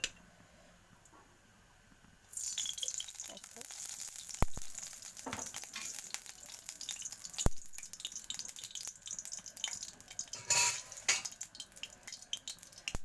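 Oil poured into a smoking-hot kadai starts to sizzle sharply and keeps frying with a steady hiss and crackle. Occasional clinks are heard against the cooking noise.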